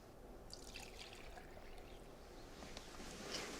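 Vegetable oil pours into a measuring cup for a chocolate cake batter, making a faint, soft liquid trickle that runs for a few seconds, quiet and close.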